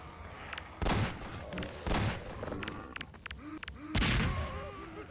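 Gunfire in the video game Half-Life 2: several loud broadband shots land roughly a second apart, with smaller pops and faint whistling tones between them.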